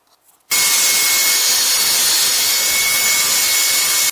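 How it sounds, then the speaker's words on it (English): A saw cutting through 1/4-inch plywood for a shaker cabinet door, one loud continuous close-up cutting roar that starts abruptly and runs steadily for about four seconds before stopping. "So I've cut the first piece of 1/4-inch plywood"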